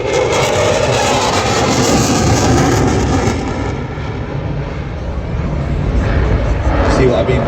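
A jet fighter at an airshow roars overhead on full afterburner, a loud continuous broadband rumble that swells and shifts as the aircraft passes, with a voice faintly under it.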